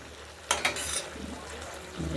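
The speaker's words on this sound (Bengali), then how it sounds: "পালং শাকটা হয়ে এসছে নামাবো নেড়ে চেড়ে" Spinach curry being stirred in a pan, with a couple of sharp scraping strokes over a soft, steady sizzle close by.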